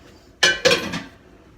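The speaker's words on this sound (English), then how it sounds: "So now my biggest recommendation is to actually get a pan out." A pan is pulled out and set down in a kitchen, giving two loud metallic clanks of cookware close by, followed by a short rattling settle and then quiet.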